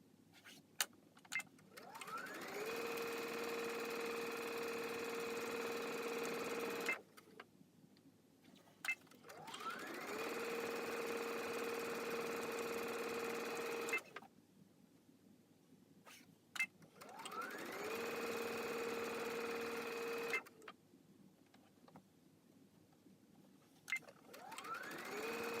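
A sewing machine stitching fabric strips for a table runner, whirring steadily in three long runs of several seconds each, separated by brief pauses with small clicks and handling sounds.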